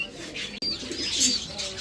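Pigeons coo and chirp in a short burst of throaty calls close by, with a brief dropout part way through.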